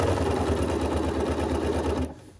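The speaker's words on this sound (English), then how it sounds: "it's important to sew with your needle down engaged" A Bernina sewing machine stitching cutwork placemats, a loud, close, steady rapid motor whir with fast regular needle pulsing for about two seconds before stopping abruptly.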